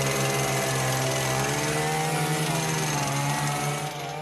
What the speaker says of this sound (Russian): Только отбойным молоткам поддается вечная мерзлота.